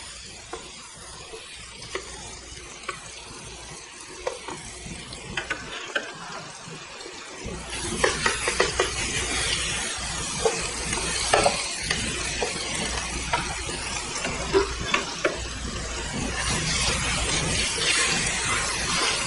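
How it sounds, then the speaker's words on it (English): Turkey burger patty sizzling in a hot pan, a quiet crackle at first that swells into a louder, steady frying hiss with sharp pops once the patty is laid in, and no talking over it. "Oh, we love that sizzle, right?"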